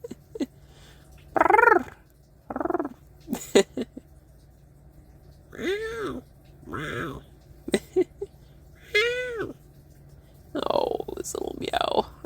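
A human voice imitates a pet cat's soft little meows and purring, a series of short rising and falling vocal calls spaced across the clip, quiet and close, with pauses between them.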